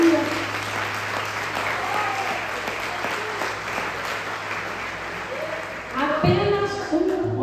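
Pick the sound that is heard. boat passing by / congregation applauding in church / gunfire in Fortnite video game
congregation applauding in church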